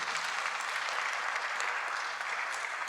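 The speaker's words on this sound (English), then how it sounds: "Applause for Diane." A dense wash of warm audience applause for a bass player introduced on stage at a live music show, steady and close throughout.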